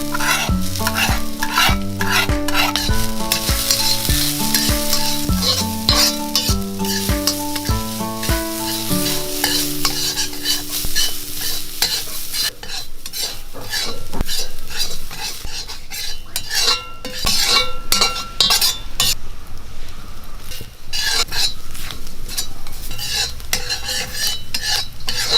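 Coconut pieces frying with peppercorns and fennel seeds in a hot pan for a chicken dish, with steady sizzling and scraping stirring strokes under prominent music, no talk.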